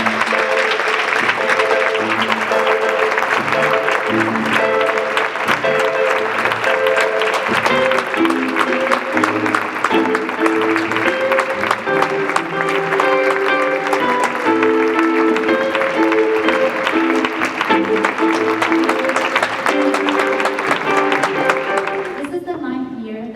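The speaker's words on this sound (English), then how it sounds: "Will you all please join me in a round of applause" Audience applause at a 2022 university fall awards ceremony, a steady full-room clapping wash running about twenty seconds beneath bright music, then stopping abruptly near the end.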